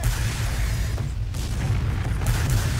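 Rocket explosions in a Team Fortress 2 match with the Beggar's Bazooka in play, a dense continuous boom and rumble of combat with a few sharper bursts throughout.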